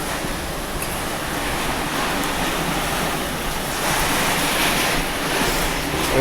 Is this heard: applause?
no